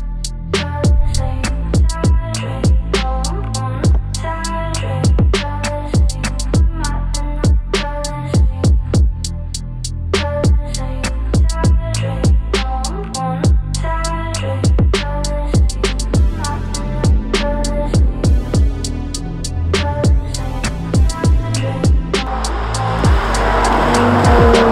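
An Aston Martin DB11 AMR on a test drive, its engine droning loudly and steadily with repeated sharp gearshift cracks and rev surges, no voices.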